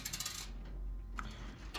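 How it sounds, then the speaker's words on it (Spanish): Coins dropping and clinking in an arcade coin pusher machine, a brief metallic jingle at the start and a single faint clink later, quiet and close. "lo que tiene esta máquina es que las monedas se quedan bailando"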